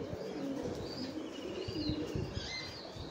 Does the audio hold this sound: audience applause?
no